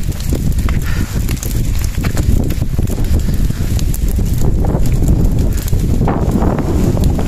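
A large fire burns near houses in a village, heard as a loud, continuous roaring rush with crackling bursts and wind buffeting the microphone.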